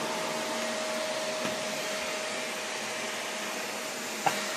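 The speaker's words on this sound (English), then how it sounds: "Are you vacuuming?" A household vacuum cleaner runs steadily and loudly throughout, a constant whooshing motor drone with a faint whine and a brief bump near the end.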